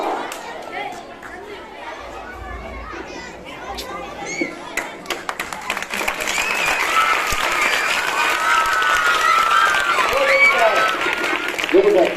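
An audience claps at a school event, first with scattered claps amid crowd chatter, then swelling into sustained applause mixed with voices across the later half, fairly loud and close.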